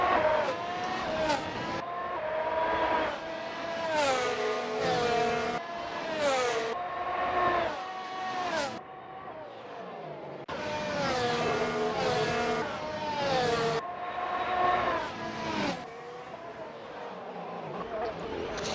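Race car engines scream through gear changes at the Baku street circuit during a 2021 Azerbaijan Grand Prix in Assetto Corsa, with high revving pitches that climb, drop at each shift and climb again, several cars passing close one after another.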